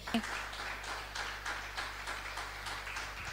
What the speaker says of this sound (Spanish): ¿Cuántos dan un aplauso, hermanos, al Señor?